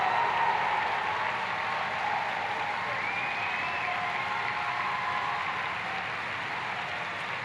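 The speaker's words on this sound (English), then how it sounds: "People don't even know what the hell they're cheering for." Steady, dense crowd noise from a Donald Trump rally in Arizona, with sustained applause and cheering filling the whole stretch at an even, fairly loud level.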